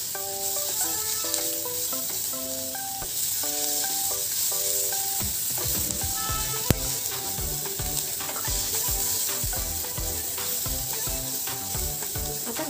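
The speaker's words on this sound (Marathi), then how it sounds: "आता मी यामध्ये 1 चमचा आलं लसणाची पेस्ट टाकते. ती देखील आपण व्यवस्थित परतून घेऊया." Ginger garlic paste fries in a pan with steady sizzling and stirring clatter, heard under a loud melodic music bed.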